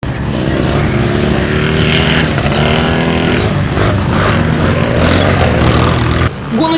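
Racing motorcycles roar along a race track, a loud close engine howl holding steady with shifting pitch and fading slightly near the end, with no voices.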